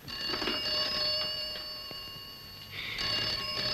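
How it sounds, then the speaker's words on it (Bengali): An old telephone bell rings in a Bengali film scene, two bright metallic trills separated by a short pause, clear and close with no talking. "নবকৃষ্ণের ফোন।"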